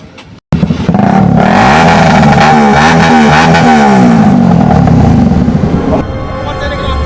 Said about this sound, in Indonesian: motor yang digunakannya ternyata dilengkapi knalpot brong yang tidak sesuai aturan